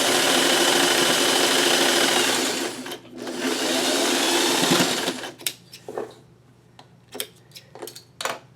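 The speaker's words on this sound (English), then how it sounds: "I'm going to turn it upside down or face down, and I'm going to just sew it onto that other piece." A sewing machine stitches fabric pieces together in a steady, loud whirring run that pauses briefly and then resumes, before stopping and giving way to a few scattered clicks and handling taps.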